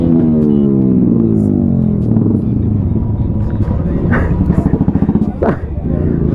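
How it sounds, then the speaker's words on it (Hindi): Several motorcycles, including a Honda SP and a TVS Raider, rev hard together at full throttle on a highway, a loud close engine roar with rising and falling pitch, while voices talk over it. "सारे लोग एक साथ भाई फुल रेस दे रहे थे।"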